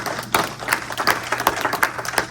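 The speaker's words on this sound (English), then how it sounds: "give yourselves a round of applause" Scattered hand claps from an audience at a retired teachers association gathering, a loose, uneven round of clapping with sharp individual claps over a hum of room noise.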